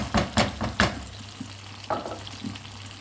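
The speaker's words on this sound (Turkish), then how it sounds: "Böyle domateslerimizle birlikte kavuruyoruz." Tomatoes sauté with a soft sizzle while a utensil scrapes and stirs the pan in several quick strokes, then a few slower ones.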